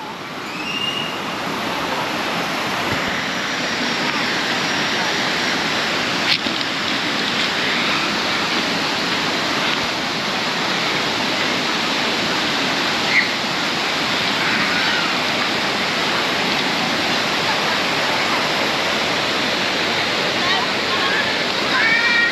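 Heavy flow pours over a waterfall near Nong Khai, feeding toward the Mekong, as a loud, steady, close roar of rushing water that holds for the whole stretch with no break.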